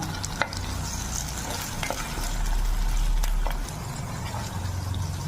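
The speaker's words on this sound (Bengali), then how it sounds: "রসুন বাটা দিচ্ছি হাফ চামচ দিয়ে আমি কষিয়ে নেব মশলাটা" Garlic and ginger paste fries with spices in a pan for a duck egg curry. A steady, close sizzle runs throughout with occasional stirring scrapes, and it swells louder in the middle.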